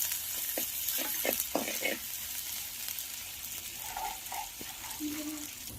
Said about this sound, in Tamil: வெங்காயம், நல்லா வதக்கிக்கணும்.